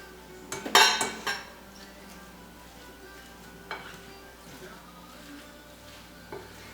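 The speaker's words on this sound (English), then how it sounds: "it is easier to use a potato masher to mix all these things up" A potato masher mashing avocado and eggs in a bowl for tuna egg salad, a few clanks and scrapes against the bowl at the start, then soft quiet squishing with an occasional knock.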